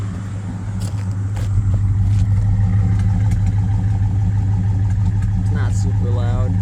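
Restored 1966 Oldsmobile Delta 88 V8 running steadily after long storage, a close, continuous low engine drone with a slight rise in level partway through and no talk.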